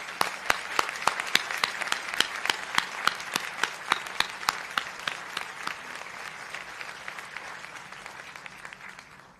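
Applause rings out in an auditorium for faculty standing at a physical therapy white coat ceremony, with a fairly small crowd clapping steadily and sharply, loud at first and slowly tapering off.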